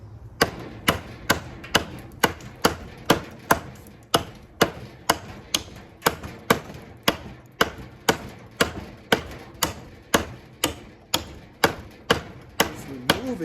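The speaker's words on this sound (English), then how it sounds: "Gonna give you guys some different point of views of chopping here." A Rough Rider Black Mule Bowie knife chops into wood in a long, steady series of sharp, close strikes, roughly two per second, with no talking.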